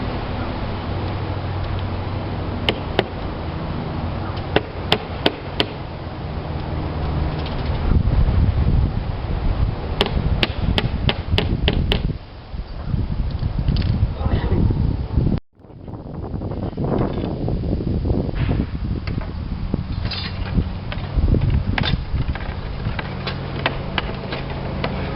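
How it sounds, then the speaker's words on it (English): Wind gusting across a slate roof during repair work, a steady loud rushing buffet on the microphone that swells and dips, with faint clicks and a brief dropout partway through. "Here comes the wind."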